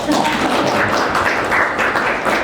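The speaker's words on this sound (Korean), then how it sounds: "박수를 치시면 되겠습니다" Audience applause at a book concert for a published book, a dense, steady wash of many hands clapping close by, sustained with no pauses.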